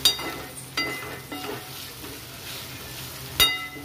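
Onions with ginger paste fry in a pan for chicken fry, a steady low sizzle broken by several sharp scrapes and knocks of a stirring spoon against the pan.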